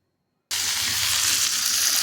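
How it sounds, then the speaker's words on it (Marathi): Tadka of hot oil crackling with asafoetida, mustard seeds, curry leaves and chillies for dhokla. It bursts into a loud, steady sizzle after a half-second of silence and stays bright and close. "मी तेल गरम करून त्याच्यामध्ये हिंग राई टाकलेले हे कढीपत्ता मिरची टाकून"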